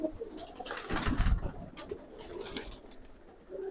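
Pigeons in a loft give soft, low cooing calls, close and fairly faint, with light rustling and shuffling movement around them and no talking.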